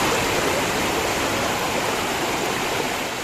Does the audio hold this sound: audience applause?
no